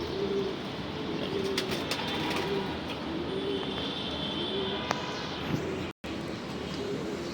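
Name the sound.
racing pigeons cooing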